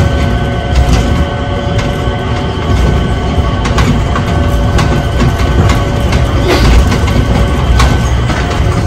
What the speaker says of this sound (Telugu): సారీ MRT కాదు స్కై ట్రైన్.